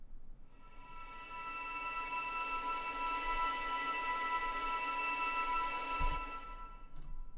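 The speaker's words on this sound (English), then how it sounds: "So I chose this pedal, string harmonics, very, very common pedal." A sustained, shimmering pedal tone of string harmonics holds steady for several seconds, swelling slightly, with a couple of brief percussive taps near the end.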